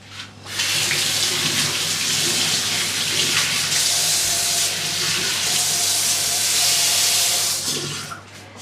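Running tap water pours steadily into a sink while an apple is washed beneath it, a loud continuous hissing splash that fades at the end, with no talk.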